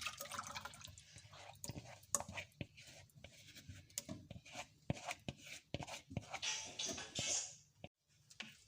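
Strained tamarind pulp poured and scraped from a bowl into a kitchen pan, faint wet splashes and dripping mixed with sharp clinks and taps of a utensil against metal, irregular and close.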